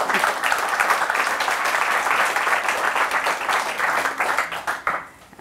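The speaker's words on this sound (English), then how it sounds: "I'd ask everyone to give you a round of applause." Dense applause from an audience at a talk, sustained and loud, then tapering off near the end.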